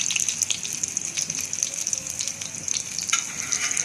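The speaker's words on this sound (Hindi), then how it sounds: "साथ ही मैं थोड़ी और टिक्कियाँ इसके ऊपर डाल दी तवे के ऊपर" Beef shami kabab patties fry on a griddle in ghee and oil, giving a steady close sizzle with a few brief pops and no talking.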